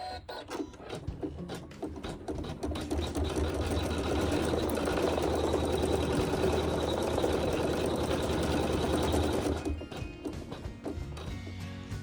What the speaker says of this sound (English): I'm going to do a needle down and needle up to bring the bobbin thread to the top, and then we're going to sew our quilting